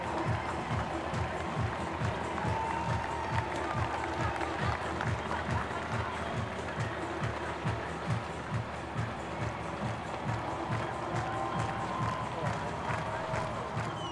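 At the Copenhagen Half Marathon finish, a large crowd of spectators applauds and cheers steadily for runners coming in, with a dense, continuous roar of clapping and shouting and a commentator's voice over it.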